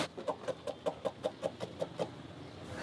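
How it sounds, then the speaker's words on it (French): Chickens on a small farm in Goma, Democratic Republic of Congo, give a close, steady series of about ten evenly spaced clucks, with no talking over them. "Il s'occupe aujourd'hui d'une 50aine de poules"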